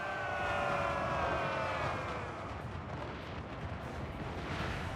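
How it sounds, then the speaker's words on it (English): Cannon artillery fires across a Total War Warhammer 3 battlefield, a dense, continuous rumble of booms and whistling tones that stays loud and steady without talk. "Be careful with that cannons, okay?"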